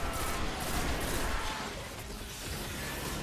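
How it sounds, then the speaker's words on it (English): Rapid gunfire from the video game Destiny: The Taken King, a dense continuous volley of shots and bursts with heavy low rumble, loud throughout with no pauses. "I should probably shoot them as I go"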